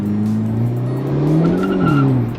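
A Hyundai Elantra N's sporty exhaust rumbles and burbles close by, a loud, low engine drone that shifts in pitch as the revs change, with no talking over it.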